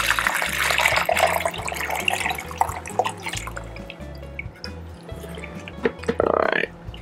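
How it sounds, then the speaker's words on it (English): Oleo saccharum syrup being strained into a 1 liter container, a close trickle and dripping of liquid with small splashes, rising briefly toward the end. "get a 1 liter container, mark it. That's what I did earlier, and then strain it out"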